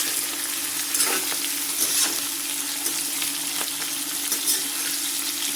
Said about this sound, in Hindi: इनको सिर्फ 2 से 3 मिनट ही हम इनको फ्राई करेंगे